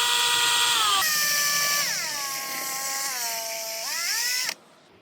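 A drill runs close and loud, mixing epoxy resin in a cup. Its steady whine rises and dips in pitch as the speed changes, then cuts off abruptly near the end with no voices.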